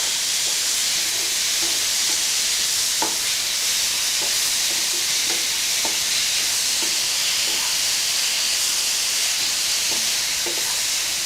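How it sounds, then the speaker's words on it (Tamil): Tomatoes sauté with onion and green chili in a hot pan, giving a steady loud sizzle and hiss broken by light, irregular stirring scrapes, with no talking. "நம்ம கட் பண்ணி வச்சுருக்கக்கூடிய தக்காளி இதில் போட்டுடலாம். போட்டு இது நல்லா வதக்கலாம்."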